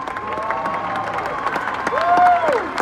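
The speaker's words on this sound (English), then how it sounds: "No, don't clap, don't clap, don't clap." Concert audience applauding and cheering, with broadband crowd noise throughout and voices rising over it, at moderate level across the whole stretch.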